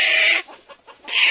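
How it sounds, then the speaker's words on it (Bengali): Frightened farm chickens cluck loudly and agitatedly in two close bursts separated by a brief quieter gap, inside a farm shed. "ফার্ম মুরগি একটা সমস্যা, এরা বেশি ভয় পায় অনেক"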